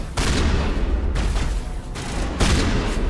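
Sci-fi gunfire in the Mass Effect video game, with dense overlapping bursts and booming rounds that run loud and close throughout, briefly dipping before another heavy volley.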